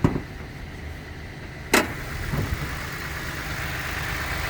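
Toyota 3.5-liter twin-turbo V6 in a 2022 Tundra TRD idles in a steady low hum, with a sharp click or thump near the start and a brief louder burst partway through.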